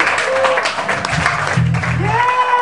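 Applause from a concert audience at the close of the last song of the night at a live show, a steady broadband wash of clapping mixed with crowd noise and a sustained musical tone.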